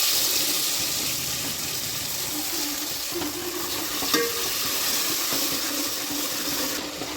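Tomatoes go into a pan of frying garlic, onion and chili paste, giving a loud, continuous close sizzle with a brief clink of a utensil midway.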